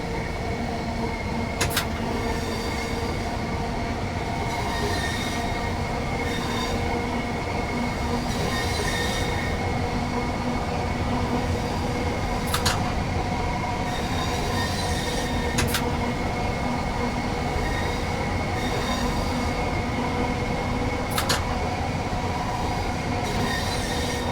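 A train climbing an uphill gradient on the Dartford to Gillingham line in Train Sim World 3 gives a steady, loud rumble and hum with a few sharp wheel clicks at intervals, no voices.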